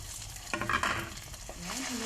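Shredded chicken breast sautéing in a pan with bay leaf for chicken pastil, a soft sizzle broken by a few scraping stirs, close and fairly quiet, with no talking.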